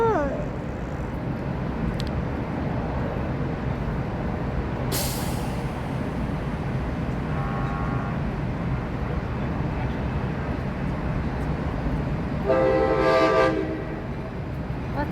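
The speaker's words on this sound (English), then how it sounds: "It's like old train, guy." Old train rumbling past at TwitchCon in San Diego, a steady loud low roar with a hissing air-brake burst and a short horn-like tonal blast near the end, people talking faintly underneath.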